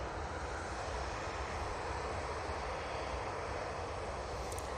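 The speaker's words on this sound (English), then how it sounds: "So Ryanair with that beautiful split scimitar there. This is going to be going off to Eindhoven." A Ryanair jet with split scimitar winglets departs Manchester for Eindhoven, giving off a constant, even jet engine roar with dense low rumble that holds at one level throughout, no voices.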